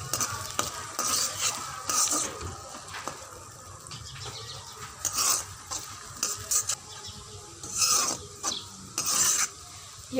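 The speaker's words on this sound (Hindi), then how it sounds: "प्याज को हम अच्छी तरह फ्राई करेंगे" Onions fry in a pan with a steady sizzle under repeated bursts of scraping and stirring, loud and close, with no one talking.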